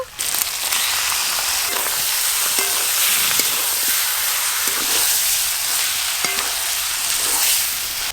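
Chicken gizzards and liver sizzle loudly in mustard oil with fried onion, ginger and garlic, a steady dense frying hiss with occasional stirring scrapes and clicks throughout.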